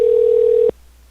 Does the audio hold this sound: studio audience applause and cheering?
no